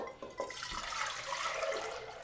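Water pours steadily into a pot for an elderberry syrup extraction, a close, continuous splashing gush that holds for the whole stretch with no talking.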